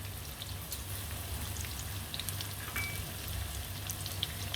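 Taro pieces frying in a pan, a soft, continuous crackling sizzle with scattered tiny pops, fairly quiet and steady, with no voices.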